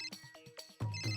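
A telephone rings with a repeating electronic ringtone in short melodic bursts, fairly quiet and near, with no speech over it.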